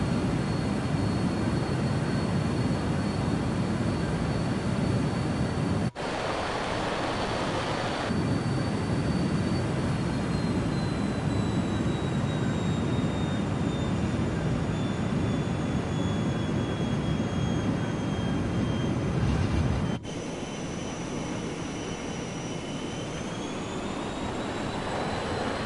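A steady airplane engine drone from Microsoft Flight Simulator 2024 on PS5 fills the whole stretch with a faint high whine that slowly shifts pitch, two brief dips breaking the continuous sound.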